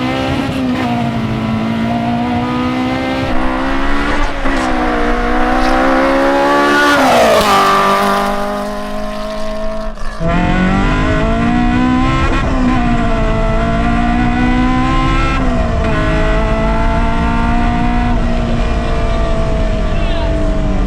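A rear-wheel-drive Toyota Starlet with a 9000 RPM, 400 HP engine screams loudly while driving, climbing in pitch through repeated rising pulls with brief drops between gears, loud and close throughout.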